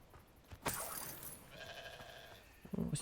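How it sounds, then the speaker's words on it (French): A sheep-like creature bleats in Hogwarts Legacy, a bright wavering cry near the start and again briefly at the end, over quiet game ambience. "Un petit mouton."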